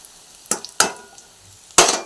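A spoon stirs chili, coriander and turmeric powder in a pan for a fish curry, producing three sharp, close scrapes and knocks against the metal over a faint background, with no talking.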